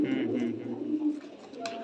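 Fancy pigeons in a loft give soft, low, throaty coos that repeat in close succession, with light rustling and background voices.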